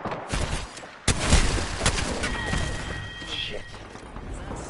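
Rapid bursts of gunfire ring out in a shooter video game, sharp loud cracks that repeat in an irregular stream, with a voice talking over the shots.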